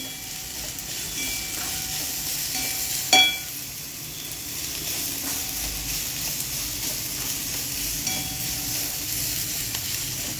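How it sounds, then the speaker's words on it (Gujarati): Vegetables for Chinese parathas stir-fried briefly in a pan, giving a steady, close sizzling hiss throughout with light stirring, broken by a single sharp clunk of a utensil early on. "આ સ્ટર ફ્રાઈડ કરીએ છીએ પહેલાં આપણે વેજીટેબલને"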